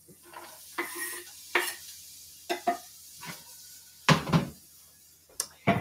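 Chopped onion goes into a hot pan for risotto, with bursts of sizzling alongside stirring and the clatter of pans and utensils, loud and close, no talking.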